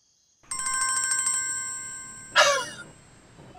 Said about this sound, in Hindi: आ गया हमारे बरादरे निस्मती का फोन।